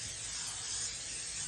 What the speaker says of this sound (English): Then I'm going to spray